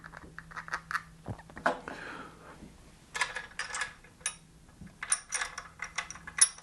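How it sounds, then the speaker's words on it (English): Ratchet clicking as it tightens a nylock nut onto a captive chain adjuster on a Yamaha R3 motorcycle, with short bursts of close mechanical clicks separated by brief pauses. "I'm going to put that little nut on right now."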